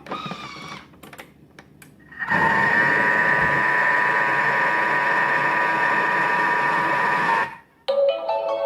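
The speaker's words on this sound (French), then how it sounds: "Je vais pulvériser 5 secondes à la vitesse" Kitchen robot pulverizing for 5 seconds at speed 4: after some clicks and handling, a loud steady mechanical whir with a tonal motor whine runs alone for about five seconds, then cuts off, followed by a brief beep.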